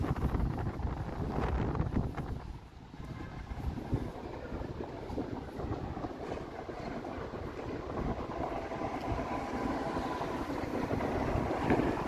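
Wind at the Toronto waterfront rushes steadily across the microphone, a low, blustery roar with a faint rumble of traffic or water beneath, continuous throughout.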